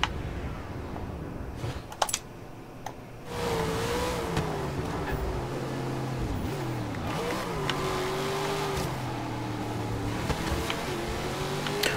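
Muscle car engine in the racing game Forza Horizon 3 roars steadily under load, its pitch rising and dipping through gear changes and acceleration, loud and continuous with no talk.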